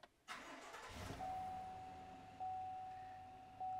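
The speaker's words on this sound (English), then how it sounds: "I'm actually going to crank the vehicle." A car engine cranks briefly and catches, settling into a steady idle close by, with a faint electronic tone running alongside and no talking.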